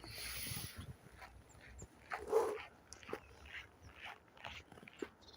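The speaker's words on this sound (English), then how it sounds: "Nice little doggy." Quiet dog whimpers and small yips sound nearby against a soft background, with brief faint noises around them.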